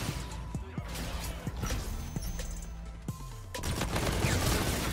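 Shotgun fire from a Model 87 in Infinite Warfare, a few sharp blasts scattered through a busy stretch of game noise and clatter, mid-distance and moderately loud.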